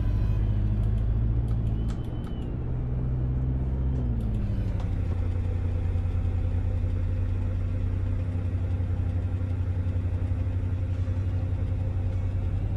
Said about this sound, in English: What an exhaust note!